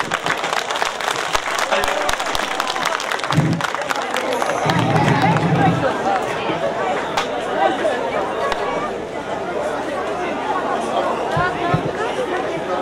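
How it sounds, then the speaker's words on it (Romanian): An outdoor crowd at a village day celebration in Pâncești claps amid loud chatter and crowd noise, with scattered sharp claps mixed into a busy, bustling background. "vă rog să-i aplaudați"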